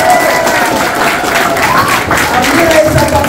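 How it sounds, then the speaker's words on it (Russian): An audience at a private school celebration in Makhachkala breaks into loud, sustained applause filling the hall, while a speaker's voice carries over the clapping. "Ваши бурные аплодисменты."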